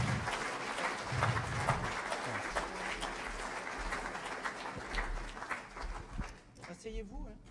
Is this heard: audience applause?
yes